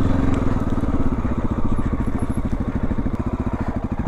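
MASH X-Ride 650 single-cylinder motorcycle ridden slowly off-road along field edges, a close thumping engine with a rapid pulsing beat and faint clatter, steady throughout with no talk.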